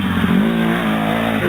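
A 150cc-class dirt bike engine revs hard during a youth motocross race, a loud, steady buzzing drone with rising pitch, close by and with no talk over it.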